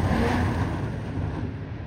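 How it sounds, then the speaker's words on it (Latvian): A car with a quiet engine and quiet exhaust drives fast on a winter race track, a brief mid-pitched engine drone rising and fading as it passes at moderate distance. "Klusas motoriņš, izpūtais nav skaļais"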